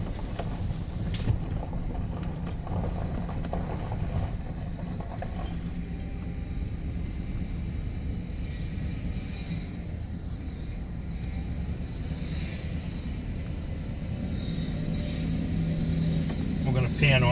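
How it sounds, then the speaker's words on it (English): A car drives up a road toward a lighthouse, its steady engine and road rumble loud and continuous throughout, with wind buffeting in the background and no talk. "We'll drive up and see how close we can actually get."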